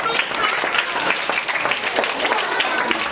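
An audience applauding in a hall, giving dense, sustained clapping from many hands that stays fairly loud and even throughout.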